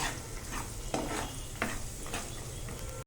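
Farali sabudana khichdi with spices and salt is stirred in a pan, a low sizzle under three distinct scraping spoon strokes, close and fairly quiet.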